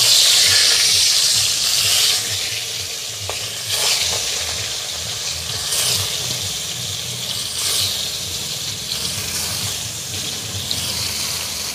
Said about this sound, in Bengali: তেল গরম হয়ে গেছে, মাছগুলো একটা একটা করে তেলের উপর দিয়ে দেব।